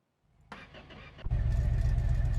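A truck engine is started with a key: a short crank, a sharp pop, then the engine catches and runs loud and rough nearby.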